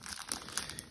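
Plastic packaging on a SpongeBob SquarePants Battle for Bikini Bottom Rehydrated game edition is torn open by hand, with brief crinkling and crackling bursts heard up close.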